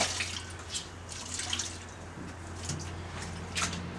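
Water drips and trickles while dried epoxy on a rusty repair is rinsed, a soft patter of small splashes with occasional brighter drops over a steady low background hum, no talking.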